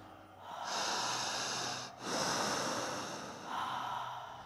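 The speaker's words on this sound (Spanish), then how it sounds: "Fuerte la respiración." Strong, deep breaths drawn in and let out during a guided breathing exercise, two or three long, loud, noisy breath cycles close to the microphone, with a brief pause between them.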